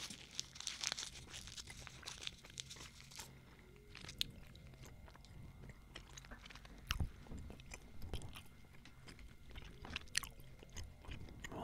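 Two pieces of gum chewed right at the mouth, wet smacking and squishy clicks in an uneven steady rhythm, very close and intimate, with faint crinkles and no talking.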